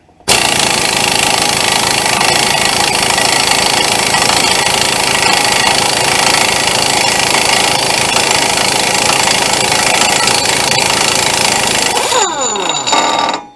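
An impact wrench hammers continuously on a 36 mm front axle nut of a 1998 Chevy Blazer 4x4. The rattling is loud and close and lasts over twelve seconds, then cuts off abruptly with a short whine. No one speaks.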